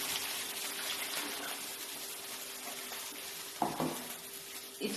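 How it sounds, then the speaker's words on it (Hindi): One litre of water pours in a steady, noisy rush into a pot of chicken nihari, ending with a few splashy knocks. "उसके बाद हम इसमें 1 लीटर पानी शामिल कर देंगे।"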